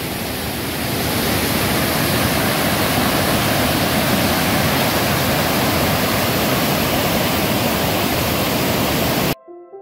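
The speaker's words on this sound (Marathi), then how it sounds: "पाण्याला तुम्ही बघू शकता की फोर्स आहे ते" Forceful rushing water at a waterfall in Konkan, a loud unbroken roar held for several seconds before stopping suddenly, with no talk.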